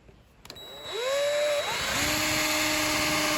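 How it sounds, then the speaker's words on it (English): A power drill bores a hole about half an inch in for a homemade vise, its motor whine spinning up and then holding steady and loud up close, with no talking. "we want to drill this fairly close because we don't want a whole lot of play"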